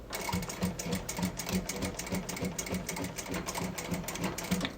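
A home sewing machine runs a short reverse stitch, a fast even mechanical chatter of needle strokes at close range, steady for several seconds with no talking.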